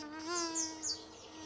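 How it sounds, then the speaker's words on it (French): A bee from a children's tale about a horned goat buzzes briefly past, a short high whine that swells and fades in a couple of quick pulses, fairly faint and alone. "Abeille passe par là."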